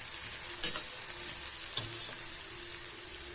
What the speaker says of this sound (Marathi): हा बारीक चिरलेला कांदा घालायचा. हा कांदा चांगला लाल होईल तोपर्यंत परतवायचा.